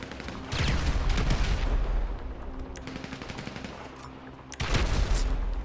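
Grenade launcher firing in GTA V Online, loud booming shots and explosions, a heavy burst at the start and another near the end, with scattered gunfire between.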